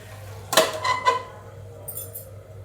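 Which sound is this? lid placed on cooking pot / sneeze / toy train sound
lid placed on cooking pot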